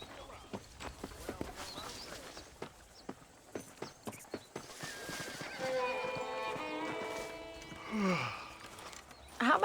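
In the Red Dead Redemption video game, a horse's hooves clip-clop in a steady walking rhythm, followed by a long, loud whinny near the end, all set under ambient game sound.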